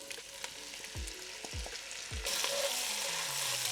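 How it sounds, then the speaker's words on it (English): Onions sizzle steadily in hot oil over low to medium heat with bay leaves, a continuous crackling fry with a few soft clinks of a utensil, growing a little louder toward the end. "You can see they're frying but not browning, so the temperature is low to medium heat."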